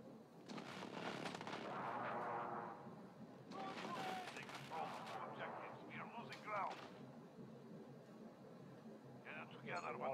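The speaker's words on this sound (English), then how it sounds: "Enemy precision airstrike inbound." Several heavy explosions from a precision airstrike in a video game, broadband booms clustered over the first seconds and again around the middle, with gunfire-like crackle and game voice callouts mixed throughout.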